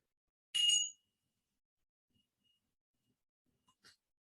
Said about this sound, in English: I'm going to set the chime and we're going to actually begin.